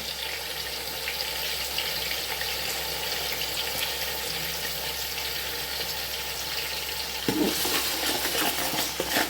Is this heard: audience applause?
no